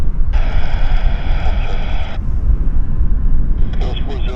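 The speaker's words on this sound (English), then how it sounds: "Back to our Air Canada to Montreal. There it is. Taxiing nicely towards us." An Air Canada airliner bound for Montreal taxies at Vancouver airport, a steady broadband engine rumble with a whining tone that holds for a couple of seconds then eases, heard outdoors amid wind and background noise.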